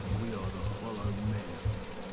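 Bees buzz in a steady, droning swarm with a pulsing low hum, continuous and fairly close, from the video game We Happy Few.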